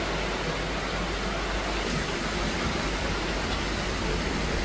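Water pours steadily and loudly outdoors for cooking a large meat curry, a continuous broadband rush filling the whole stretch with no talk over it.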